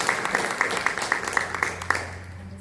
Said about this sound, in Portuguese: Bem forte as suas palmas para o Senhor Jesus.